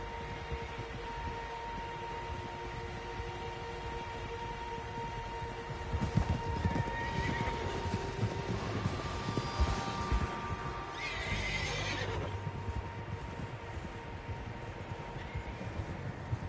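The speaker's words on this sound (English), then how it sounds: "Horses, quite a few of them." Several horses neigh and whinny in a Red Dead Redemption II outdoor scene near a lake, with clip-clopping hooves over a steady ambient hum; whinnies stand out around the middle and again later, moderately near.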